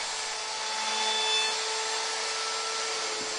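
A router fitted with a 1/4 inch round over bit cuts along the bottom edges of wooden table apron rails, a steady high whine with a continuous rasping bite that holds evenly throughout, close and loud.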